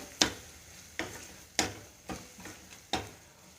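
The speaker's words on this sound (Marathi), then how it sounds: "ओला नारळ कांद्याबरोबर परतून घेऊया" Fresh coconut sautéed with onion in a pan for a radish-leaf and prawn curry, heard as five sharp, evenly spaced stirring knocks over a faint, steady sizzle, close and quiet with no voices.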